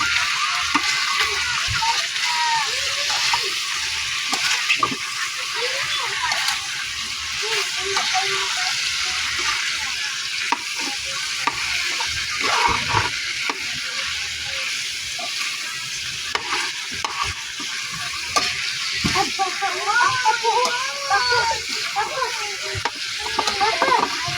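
Chicken adobo (adobong manok) sizzles steadily in a pan as it is stirred, a loud continuous frying hiss with scraping utensil strokes throughout.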